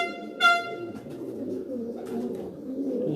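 Pigeon cooing on a rooftop loft in Mianwali, a prized female of a home-bred line, heard as a soft low coo with a brief harsher call early on, amid faint background rumble.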